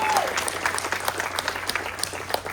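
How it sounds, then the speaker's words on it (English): Applause from an audience at a wine house ribbon cutting, a steady patter of many hands clapping at moderate distance, with a brief voice at the start over it. "Let's give her another round of applause, Christy Butler."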